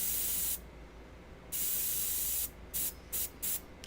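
An airbrush fed by a compressor hisses steadily with the pressure being turned down, one long burst followed by several short spurts, close and fairly quiet.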